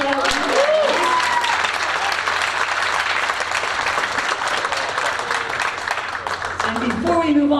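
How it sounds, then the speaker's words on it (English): Sustained, dense applause rolls through the room for a high school orchestra at a Herricks High School Tri-M concert. A few voices come through near the start and end. "could we have another round of applause for our orchestra?"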